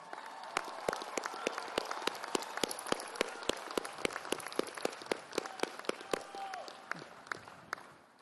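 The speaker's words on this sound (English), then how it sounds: "give them a big round of applause" A crowd applauds at a university commencement ceremony, steady clapping from many hands with some sharp individual claps standing out, fading slightly toward the end.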